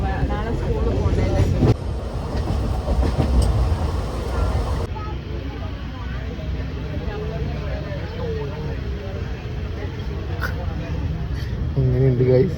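A passenger train rolls along the rails with a continuous rumbling clatter, heard from inside the carriage as people talk over it throughout.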